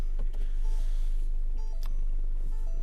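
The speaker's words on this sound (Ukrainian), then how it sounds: "я включив задній хід, тому він так пищить" Reversing parking sensor of a 2020 Ford Transit van beeping in short, evenly spaced electronic tones, heard close up over a low engine idle hum.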